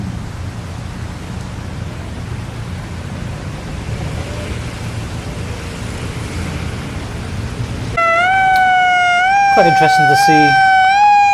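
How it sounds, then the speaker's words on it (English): American ambulance siren wailing in a Philadelphia street, starting abruptly midway and rising and falling in repeated sweeps over steady traffic noise, loud and fairly close, with brief talk early on. "American sirens and ambulance."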